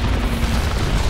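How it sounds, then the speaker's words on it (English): Incoming fire and explosions in the video game Crysis, a brief deep rumbling boom with dense low blasts, loud and close, without speech. "Someone's shooting at me."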